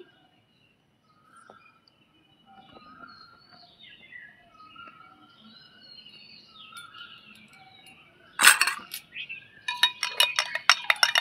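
A spoon stirring homemade aamchur powder with lime juice makes a quick burst of scraping and clinking near the end, after a quiet stretch with faint birdsong in the background.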